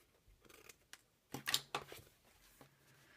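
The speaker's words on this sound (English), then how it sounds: "I'm just going to cut off this little bit that's overhanging on the side of that" Scissors snip off an overhanging edge of a paper sticker in a few quick, close, quiet cuts, with soft paper rustling before and after.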